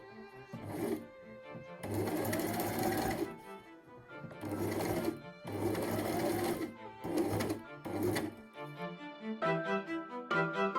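A sewing machine runs in several bursts of stitching, stopping and starting as it sews the side panels of a miniature Tudor doll's house mattress; the motor whirrs close and steady during each run, with short pauses between.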